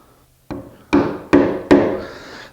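Four sharp mallet blows drive a wide chisel into wood along a groove and shoulder, the first lighter, then three solid strikes in steady rhythm, each with a short ringing decay, close and loud with no talking.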